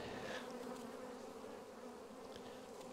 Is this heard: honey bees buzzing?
yes